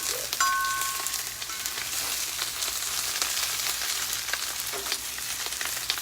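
Chopped cabbage frying on a flat-top griddle, with a steady close sizzle and crackle and a few faint metal scraper scrapes as it is broken apart.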